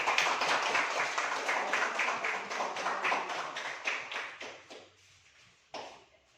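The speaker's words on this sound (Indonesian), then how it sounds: "kita beri tepuk tangan dari kelompok 1" Classroom applause for a student group after their presentation, a run of dense rapid hand claps from a group that thins out and fades toward the end, with one last sharp clap.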